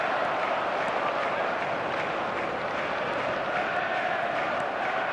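A football stadium crowd during a penalty shootout gives a dense, steady roar of massed voices that stays loud and even throughout with no clear breaks.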